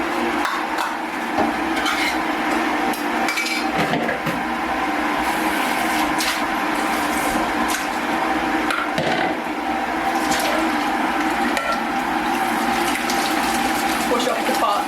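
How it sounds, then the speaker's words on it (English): Water from a pot of cooked chickpeas pours and splashes into a sink as they are drained, a steady rushing stream with clinks of pans and cutlery throughout, fairly close and loud. "We're going to drain some chickpeas."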